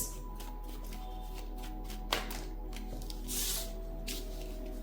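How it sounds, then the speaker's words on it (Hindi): Tarot cards being shuffled by hand during a reading, a soft continuous riffling and sliding with a sharper slap near the middle and a brief rush later, close and quiet with no talking. "मेरे अंतर्मन से आई थी कि और शफल करूं"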